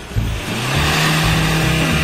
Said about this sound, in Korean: 엑셀 좀 밟아주세요